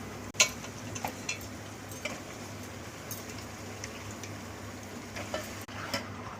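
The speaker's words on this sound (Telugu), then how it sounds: "ఆనియన్ ఇలా బ్రౌనిష్ కలర్లో వచ్చేసాక చికెన్ని అందులో యాడ్ చేసుకోవాలి" Chicken goes into a pan of browned onions and fries with a soft, steady sizzle, broken by a few sharp clinks and taps of a utensil against the pan.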